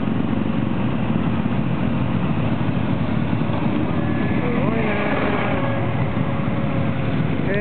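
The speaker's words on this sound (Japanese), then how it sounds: "続々とオートバイが集まってますね。" Steady engine rumble of motorcycles arriving early morning at Twin Ring Motegi circuit for the 2008 MotoGP Japanese Grand Prix race day, with a passing bike rising in pitch midway, under faint chatter.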